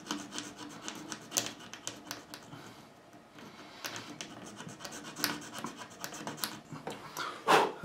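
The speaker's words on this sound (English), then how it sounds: "I will take a blade and we'll scratch that out. Oh, we'll not scratch it out, we'll scrape that out." A blade scrapes proud dried glue off a guitar neck during a fret job, giving a run of short dry rasping strokes in an irregular rhythm, close and fairly loud, with no speech over it.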